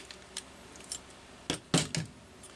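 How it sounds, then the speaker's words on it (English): Scissors or cutters trim a rubber fuel hose for a Homelite Super XL-925 chainsaw: a few sharp snips close by, clustered near the end after softer clicks, with no talking. "Now you can trim roughly ½ inch off, get rid of your angle cut."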